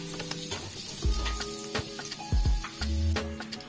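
Garlic dropped into hot oil in a wok for stir-fried bok choy sizzles steadily, with a few sharp clanks and scrapes of a utensil against the pan nearby.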